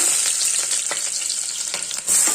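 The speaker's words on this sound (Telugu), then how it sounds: "3 ఉల్లిపాయలు నూనెలో వేసేస్తున్నాం. వేసేసి ఒకసారి కలపాలి." Chopped onions hit hot oil for a ridge gourd curry, making a loud, continuous hiss and crackle with a few soft stirring thumps, close and alone, then a brief dip and a renewed surge of sizzle at the end.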